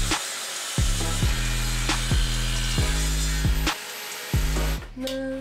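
A power saw hums loudly and repeatedly bites into wood, with rhythmic rasping cuts about every second and brief dips as the motor slows.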